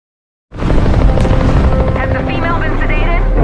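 A film helicopter roars in abruptly after a short silence, loud and close, its rotors sustaining a heavy, continuous thrum to the end.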